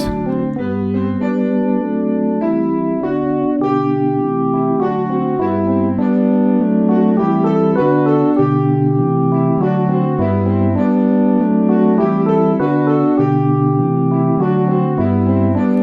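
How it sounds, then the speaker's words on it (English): Bach's triplex canon, three interwoven melodic lines moving in steady note values, heard as continuous keyboard-like contrapuntal music at an even, full level with no talk. "You are now listening to a canon triplex, 3 lines of music that can be inverted to form an additional 3 lines of music"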